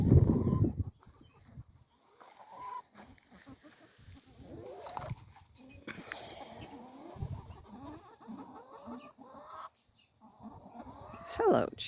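Backyard chickens cluck softly in a garden, with scattered quiet clucks and calls over several seconds, opening with a brief loud bump and ending with a sharper squawk.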